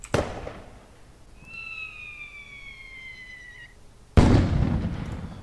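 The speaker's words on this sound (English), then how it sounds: "can also do the angle of the fireworks" Simulated fireworks in Stage Simulator software: a sharp burst opens, a falling whistle streaks for a couple of seconds, and a loud crackling blast of noise closes the clip.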